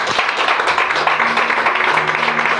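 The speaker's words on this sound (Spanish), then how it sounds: "¿Cuánto le dan un aplauso fuerte al Señor?" A church congregation bursts into loud, steady applause for the Lord, a dense wash of many hands clapping at once that fills the room.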